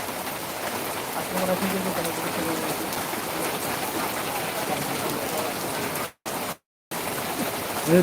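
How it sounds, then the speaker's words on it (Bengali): Steady heavy monsoon-style rain pours down in a dense, continuous hiss with no letup, close and loud. "অসাধারণ বৃষ্টি হচ্ছে"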